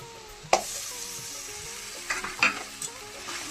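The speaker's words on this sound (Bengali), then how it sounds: "পেঁয়াজ বাটাটা দিয়ে দিচ্ছি," Onion paste sizzles in a hot pan while being stirred for an egg, cauliflower and pea curry, giving a steady fry hiss with a sharp clank near the start and a few scraping stirs later.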